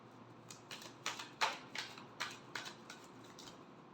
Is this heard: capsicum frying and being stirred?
no